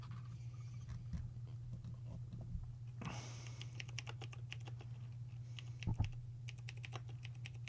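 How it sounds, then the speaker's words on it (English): Rapid computer keyboard typing, irregular clicking keystrokes over a steady low electrical hum, with no talking. "Let me type it in here."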